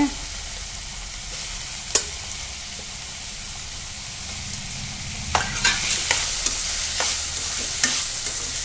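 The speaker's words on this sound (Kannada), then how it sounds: "ಸ್ವಲ್ಪ ಇದೆಲ್ಲ ಹುರಿಲಿ" Drumstick masala curry with tomato fries in a pan with a loud, steady sizzle, broken by several sharp scrapes and knocks of stirring near the end.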